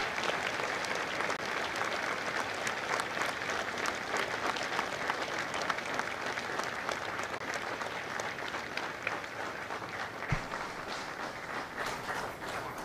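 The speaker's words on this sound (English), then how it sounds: "Ladies and gentlemen, a round of applause for their dedicated service to Corps and country." An audience at a Marine Corps recruit graduation at MCRD San Diego gives sustained, even applause, a steady wash of many hands clapping at a moderate distance for the whole stretch.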